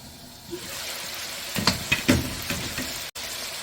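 Mutton charsi karahi cooking covered on a medium flame: a steady, soft sizzle with a few brief clinks and knocks from a lid or pot near the middle.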